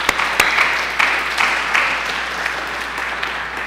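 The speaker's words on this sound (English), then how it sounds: "And so let's give Skip a round of applause." An audience gives a lecture speaker a sustained round of applause, dense and steady clapping filling the room with a few sharper individual claps standing out.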